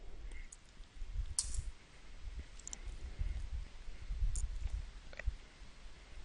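Someone types a website address on a computer keyboard: a run of quick, light key clicks in irregular bursts, close and fairly quiet, with no talking.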